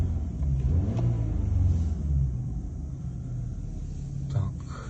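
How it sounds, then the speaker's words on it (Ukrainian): A 2015 BMW 320i engine idles steadily nearby, a smooth, even low rumble with no sputtering or revving, continuous throughout. "Працює двигун рівненько, все супер."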